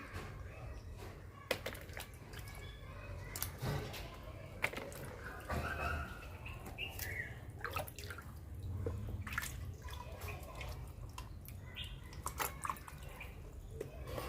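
Quiet splashing and dripping as vegetables are rubbed and swished in water, with irregular sloshes and drips close by.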